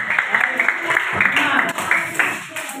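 Students clapping together in a classroom, a loud, dense patter of hands with a brief spoken word over it.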